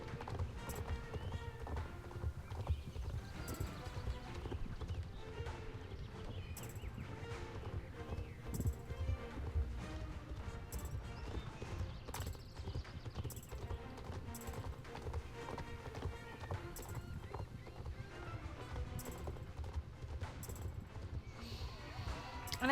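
Rapid clip-clop of horse hooves galloping in a Star Stable video game race, a steady driving rhythm running throughout over game music, fairly loud and continuous.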